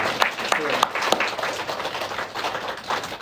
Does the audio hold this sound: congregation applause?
yes